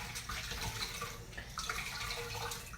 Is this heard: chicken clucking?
no